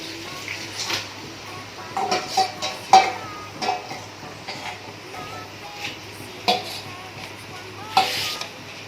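Onions fry in a hot pan, a low steady sizzle broken by repeated scraping and stirring clatters of a utensil against the pan, fairly close and moderately loud with no talking.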